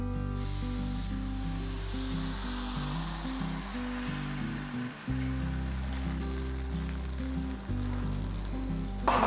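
Millet appam batter is poured into a hot paniyaram pan and gives off a continuous soft sizzle and hiss that stays steady throughout, with faint tonal sounds underneath and no talking.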